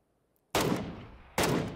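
Two loud, close gunshot bursts from PUBG gameplay, the first sharp blast decaying with a long echoing tail before a second blast near the end, with no talking.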